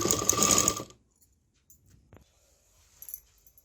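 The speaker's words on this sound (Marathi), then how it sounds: "जिथे मार्किंग केले तिथपर्यंत शिलाई करणार आहे" A sewing machine stitches a zipper onto a fabric makeup organizer in a short, loud mechanical whirr lasting about a second, followed by near silence and a few faint clicks and handling sounds.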